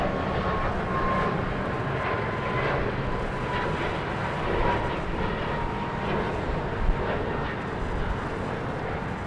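A Boeing 737 MAX 8 jet airliner roars steadily overhead amid heavy wind noise at LAX, a loud continuous rumble that holds throughout without any talking.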